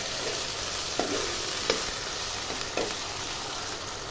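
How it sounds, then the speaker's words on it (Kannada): Potatoes fry in oil for potato kurma, giving a steady close hiss of sizzling with a few faint clicks of a utensil, continuous and without speech. "ಆಲೂಗಡ್ಡೆ ಎಣ್ಣೆಲೇ ಫ್ರೈ ಆಗ್ತಿದೆ."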